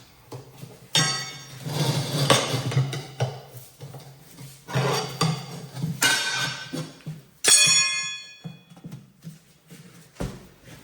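Several sharp metallic hammer strikes on a Cub Cadet tractor ring out at irregular intervals, one especially bright and ringing near the end, with scraping and clattering in between.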